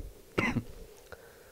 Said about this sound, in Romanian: tușesc așa din când în când